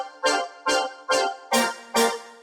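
Red-coloured synth layer from a color bass drop: five evenly spaced, punchy tonal stabs with rich harmonics, each swelling fast and decaying, loud and alone without talk.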